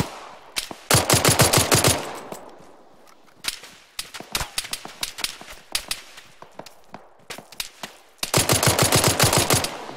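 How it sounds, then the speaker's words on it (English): Automatic gunfire in the military shooter game Arma, loud sharp bursts of rapid shots near the start and end, with scattered single and clustered shots between, no talking. "Who's taking shots right now? I am. I'm coming, I hear it."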